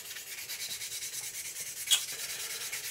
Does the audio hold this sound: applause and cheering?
no